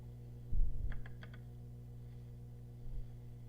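A few quick keystrokes typing 25 on a computer keyboard, then a firmer press of the enter key, close and fairly quiet over a steady low hum, with no talking.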